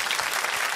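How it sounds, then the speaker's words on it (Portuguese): Brief burst of virtual audience applause on a Brazilian TV variety show, dense steady clapping that fills the moment without any voices. "Olha aí a nossa plateia virtual aplaudindo."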